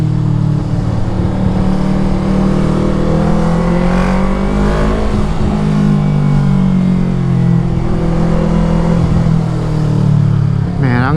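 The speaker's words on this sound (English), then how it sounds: "Look at all this traffic" Steady heavy traffic roars along the Pacific Coast Highway near Santa Monica, with engines droning loudly and continuously throughout while cars surge and pass close by.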